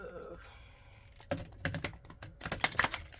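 Large oversized tarot cards being shuffled by hand, quiet rustling at first, then a series of sharp, irregular riffling flicks and slaps, close and alone with no talking.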